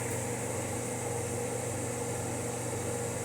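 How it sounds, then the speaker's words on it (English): A kitchen exhaust fan above the stove during candy making runs as a steady, unbroken drone with a low hum and airy whoosh, constant and moderately loud, with no talking over it. "Then you can turn your exhaust fan off because obviously you don't need it."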